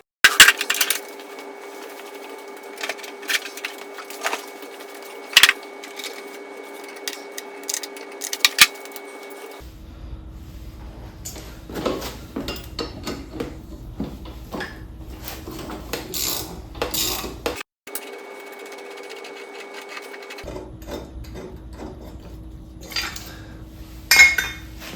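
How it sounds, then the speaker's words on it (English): A Toro lawn mower is flipped over and its blade removed: scattered metallic clinks, clanks and a few louder knocks, heard close over a steady low hum with quiet gaps in between. "I'm gonna flip it over and take that blade off and sharpen it."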